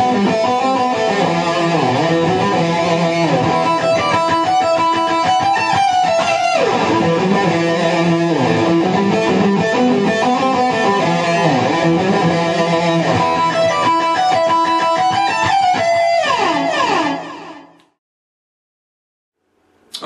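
A guitar solo riff played at full speed on a Jackson Adrian Smith San Dimas electric guitar, a fast run of bright distorted notes lasting about seventeen seconds with no talk, then stopping into silence.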